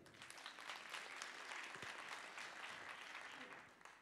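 An audience applauds young apprentice actors after a student theatre performance, a steady wash of clapping of moderate size heard from within the hall, with a voice speaking faintly over it.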